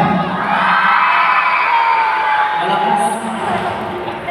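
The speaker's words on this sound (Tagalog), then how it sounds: "Palakpakan dito na side!" Audience on one side of a crowd cheering and shouting loudly, a roaring mass of voices with whoops and excited yells, close and sustained, easing slightly toward the end.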